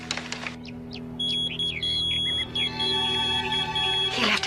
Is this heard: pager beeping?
yes